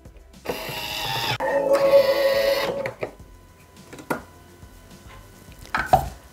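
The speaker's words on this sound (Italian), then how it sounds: "ed azionare il bimby per 5 minuti, 120 gradi, antiorario," A Thermomix (Bimby) kitchen machine starts up in reverse at soft speed, heating pasta with peas, speck and mushrooms at 120 degrees: a loud whirring burst for a few seconds, followed by scattered clicks and knocks.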